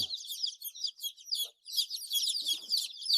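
High, busy peeping from a group of young chicks in a brooder, a dense run of quick chirps with a brief pause near the middle.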